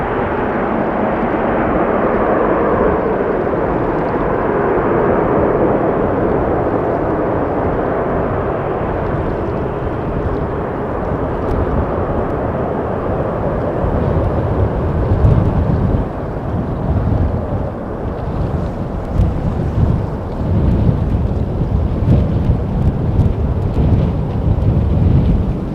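A Delta Airbus A330-300 aborts its takeoff roll at Amsterdam Schiphol, a loud, steady broadband engine roar heard from a distance that holds for the whole stretch, with gusty wind buffeting the microphone.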